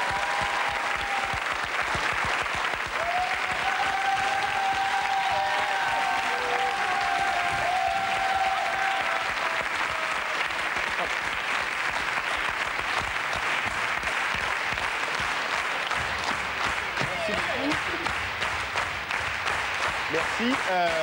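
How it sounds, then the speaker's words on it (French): Sustained audience applause for the Robins des Bois comedy troupe at a Christmas Eve television show, dense and steady throughout, with voices faintly mixed in. "qu'on applaudit s'il vous plaît"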